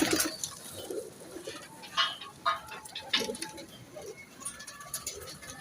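Pigeons coo repeatedly close by in a loft, with soft throaty calls rising and falling in uneven bursts over a faint background hiss and no talking.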